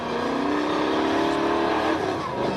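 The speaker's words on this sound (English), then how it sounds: "Listen to him working the throttle." Rock racing buggy engine at an extreme rock crawling race in Moab, Utah, revving loud and continuous as the driver works the throttle up and down, with a rising, wavering pitch throughout.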